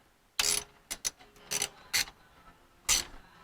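A wrench works a bolt on the 8.2 ten-bolt Eaton posi rear axle of a 1937 Ford truck, a series of sharp metallic ratcheting clicks in uneven bursts, close and distinct.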